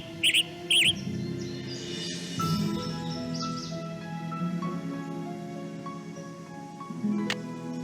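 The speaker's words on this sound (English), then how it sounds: "Western tanager." Western tanager song in the game Nancy Drew Ghost Dogs of Moon Lake: a couple of short, burry chirped phrases at the start, then softer scattered notes over a steady ambient hum.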